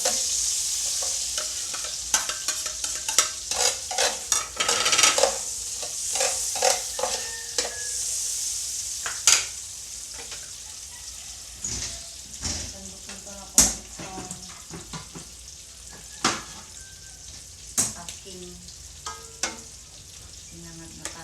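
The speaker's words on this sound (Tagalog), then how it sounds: "Ilalagay ko na yung bawang." Garlic sizzles in butter in a pan while being cooked for Filipino fried rice, a steady bright frying hiss broken by repeated sharp scrapes and clinks of stirring, close and fairly loud.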